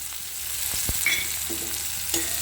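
Garlic and tomato fry in a pan for a pumpkin mash dish, giving a steady close sizzle with a few soft clicks of a spoon stirring, no voices.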